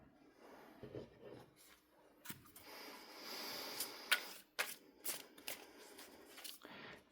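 A deck of tarot cards being shuffled three times by hand, giving close, quiet riffling and soft slapping bursts in a spaced sequence with no talking.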